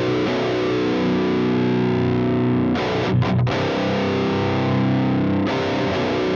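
A heavily distorted electric guitar with a death metal rhythm tone on stock amp settings plays sustained, buzzing chords, loud and saturated, with a brief break in the middle before the fuzzy tone resumes.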